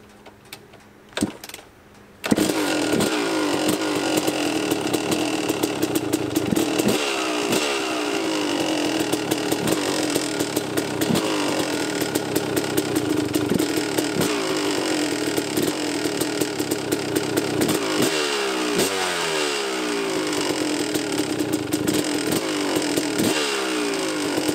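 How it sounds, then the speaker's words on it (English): A Yamaha YZ250 two-stroke dirt bike starts up and idles as it warms, its engine a steady, loud, rattly buzz with uneven flutters from a torn air filter letting in extra air; no talk over it. "We're going to go ahead and get the bike crunk up, let it warm up"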